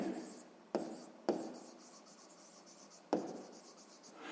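Close, steady handwriting scratches during a grade-6 maths exercise, with a pen or chalk rubbing continuously and a few sharp taps marking new strokes, with no talk.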